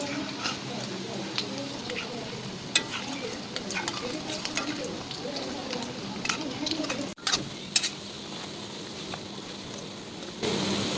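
Jali kababs fry in a pan with a soft, continuous sizzle, broken by scattered clicks and taps as the pieces are turned over one by one.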